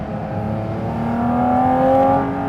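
Porsche 718 Cayman GT4 RS mid-engined sports car on the road, its induction roar rising steadily in pitch and loudness under acceleration, then easing slightly, heard close and alone without talk.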